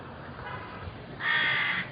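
A crow caws, a faint call at first followed by a louder, nearer caw toward the end, heard alone against quiet outdoor background.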